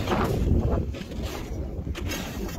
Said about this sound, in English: That is a biting wind.